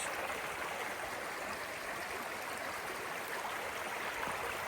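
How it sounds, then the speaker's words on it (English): Steady rushing of a small stream's flowing water on a morning outing, continuous and fairly close, with no voices. "enjoy the water's sounds"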